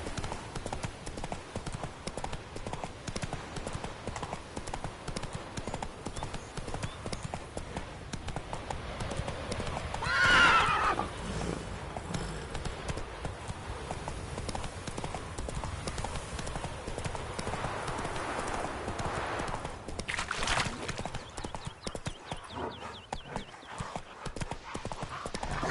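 Hooves of Roach, the horse in The Witcher 3 video game, gallop in a rapid, continuous clip-clop, close and steady throughout, with a brief louder swell partway through.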